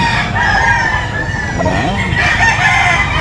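A stag gamefowl rooster crows loudly and close by, its rising call standing out over a busy background of other birds and faint voices.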